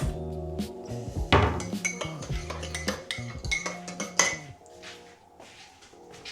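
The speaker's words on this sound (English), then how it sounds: "Now I'm just going to give that a stir" A spoon stirring a hot mixture in a metal pot: repeated close, bright clinks and scrapes against the sides in an uneven rhythm, with a few louder knocks, then tapering off into quieter scraping.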